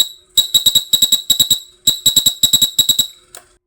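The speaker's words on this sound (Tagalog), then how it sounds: "At para naman sa busina, pindutin lamang ang green button." A DIY 24-volt e-bike horn driven by a relay gives loud, rapid electronic beeps in tight repeating bursts of about four pulses each, shrill and piercing with short gaps between groups.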